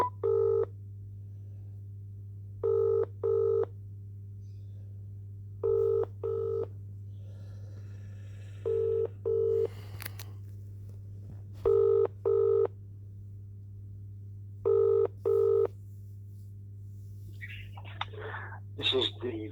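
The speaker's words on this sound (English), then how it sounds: "Ringing up Graeme Kenna." Paired electronic beeps of a phone being dialed repeat in steady sequence over a constant low hum, followed by a brief ringing burst near the end.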